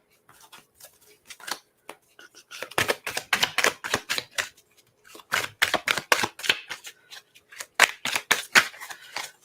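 Rapid bursts of crisp riffling and snapping, like a deck of cards being shuffled, come in several quick runs with short pauses between.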